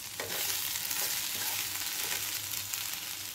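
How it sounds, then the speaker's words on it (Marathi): Raw mango dish with coriander powder and red chili being stirred in a frying pan, a constant sizzle with light scraping strokes of a spoon, close and even throughout. "आणि व्यवस्थित असं हलवून घ्यायचं आहे"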